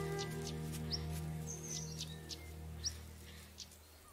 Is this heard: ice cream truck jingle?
no